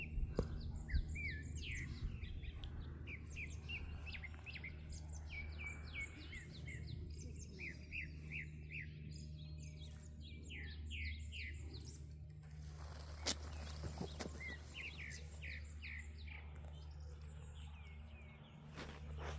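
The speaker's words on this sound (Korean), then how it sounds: "아침이라 그런지 새소리가 유난히 더 크게 들리네요" Birds sing in the morning across a wooded hillside in late April, with repeated high, bright phrases over a soft, steady insect hum and no talking.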